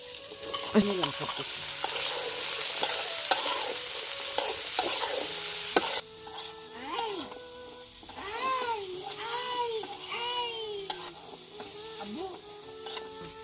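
Chili paste frying in oil, cooked on a clay stove in a rural setting, crackles and sizzles while being stirred. The hiss eases after a few seconds, and animal or bird calls come through in the background.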